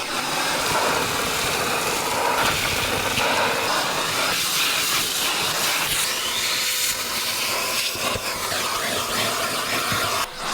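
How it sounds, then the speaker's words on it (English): A backpack vacuum cleaner runs steadily inside the cab of a filthy Kenworth truck, a loud, continuous airy roar and hiss with small shifts as the nozzle moves, no talking. "let's vacuum this out. I got my Ghostbusters vac pack on."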